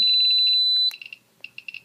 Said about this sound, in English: up is LED and piezo for your alarm